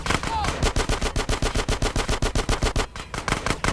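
Rapid automatic gunfire in the GTA San Andreas video game, a dense, steady rattle of about twenty close, loud shots in quick rhythm.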